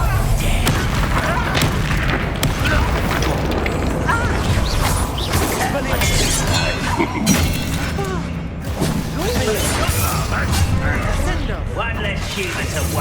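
A Confringo fire-blast spell explodes in Hogwarts Legacy amid dense, loud combat noise: booms, crashes and shattering debris, with spoken voices over the din.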